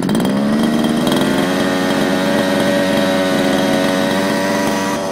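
A fifth-scale RC car engine starts and settles into a steady, loud idle, its small two-stroke note holding even and close throughout with no talk.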